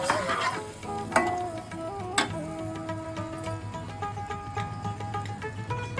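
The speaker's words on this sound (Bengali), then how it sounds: "দই ফুলকপিটা ঠিক এইভাবে এবার আমি জল দিয়ে দিচ্ছি" Water goes into a pan of cauliflower curry cooked with yogurt, setting off a loud, steady sizzle with sharp clinks and scraping of stirring throughout; no one talks.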